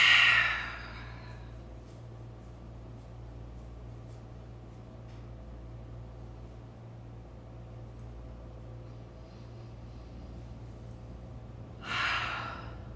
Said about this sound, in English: Long, smooth breathing.